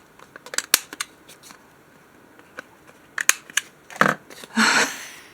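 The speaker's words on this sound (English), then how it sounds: "And now we'll round the corners" A corner rounder punches through paper for a junk journal page, giving a series of sharp crisp clicks and snips, followed by a louder crunching press near the end, with no talk.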